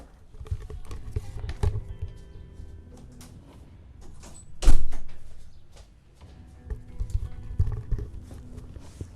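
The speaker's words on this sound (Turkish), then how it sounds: "Bir saniye kapıyı kapatayım." A door closes with one loud, sharp slam midway, surrounded by scattered footsteps and knocks from someone moving about a room.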